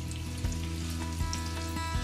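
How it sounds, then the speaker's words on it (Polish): Korean spicy chicken wings frying in a pan, a dense continuous sizzle and crackle, close and steady, with a faint tonal hum beneath and no talking. "Będziemy smażyć około 10 minut, aż skrzydełko nie nabiorą takiego ładnego, złotawego koloru."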